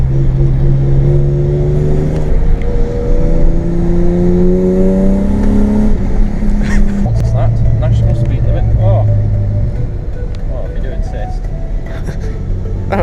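Straight-piped BMW E36 with a swapped 2.8-litre M52 straight-six, heard from inside while driving: a loud, steady engine drone with gear-change pitch steps, close and continuous, with people talking over it.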